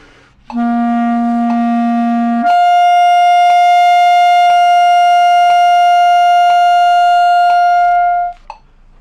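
A single sustained clarinet tone starts low, then jumps up to a higher held G that rings steadily for several seconds before stopping, with faint key clicks.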